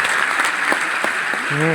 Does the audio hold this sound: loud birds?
no